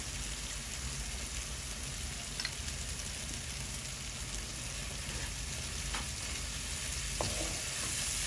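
Prawns frying with red spinach in a pan give a steady, close hiss of sizzling oil with faint occasional crackles and stirring scrapes, unbroken from start to finish.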